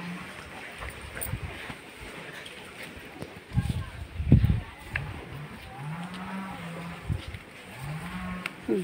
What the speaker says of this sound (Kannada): ಇಲ್ಲಿ ಎಲ್ಲವೂ ಎತ್ತಿನ ಹೋರಿಗಳೇ ಇರೋದು,